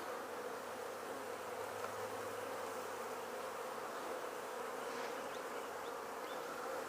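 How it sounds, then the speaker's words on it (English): A calm spring honeybee swarm hums in a steady, soft, continuous drone close by, with no voices. "They're really calm, which of course is typical of swarms."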